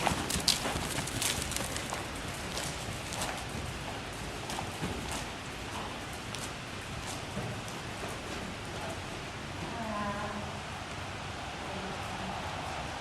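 A horse walks in a riding arena, its hooves giving a steady, soft clip-clop over a constant hiss of background noise, with no speech.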